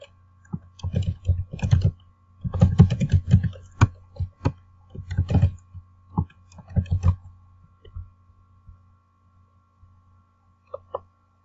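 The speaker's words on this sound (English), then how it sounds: "I believe it wants me to type in my username, my email address and such." Someone types on a computer keyboard, producing quiet, irregular bursts of key clicks that come in short flurries, then thin out to a few isolated taps before silence.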